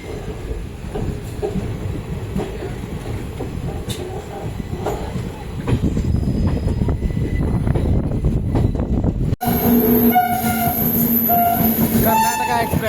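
A Karnataka Express train from New Delhi to KSR Bengaluru rolls past at close range, its wheels and wagons rumbling loudly and steadily, then rising into sharp wheel squeal and rattling carriages near the end.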